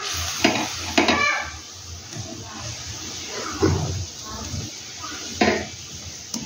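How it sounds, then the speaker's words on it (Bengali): Cauliflower koftas go into a simmering curry, with a soft sizzle under repeated scraping and clanking of a spoon against the pan at close range. "এখন কোপ্তাগুলো দিয়ে দিন সম্পূর্ণ।"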